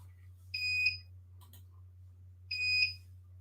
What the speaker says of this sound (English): It's been beeping at me a lot lately. That's my security thing.